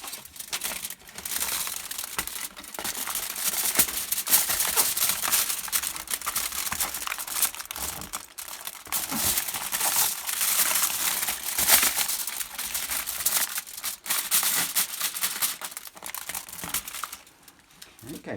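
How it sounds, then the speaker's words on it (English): Crinkling and crumpling of foil tape pressed onto the cardboard corners of a homemade box oven, a steady close-up rustle with bursts of tearing, faint voices now and then. "we've used the foil tape to cover all the little corners and areas where the cardboard was visible"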